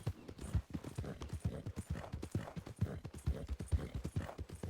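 A horse galloping fast in a Wild West roleplay video game, a rapid, steady drumming of hoofbeats that runs throughout at moderate level.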